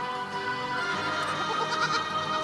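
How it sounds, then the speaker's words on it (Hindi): A young goat kid bleats steadily and close by, a sustained wavering cry that fills the whole stretch with no talking over it. "बकरी का बच्चा"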